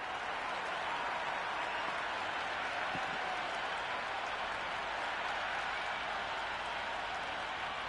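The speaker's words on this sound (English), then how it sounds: "the crowd have joined the party. It's pretty noisy at the ground" A cricket crowd at Lord's during an India Legends versus South Africa Legends match gives steady, distant-sounding applause, a constant wash of clapping and crowd noise without clear individual claps.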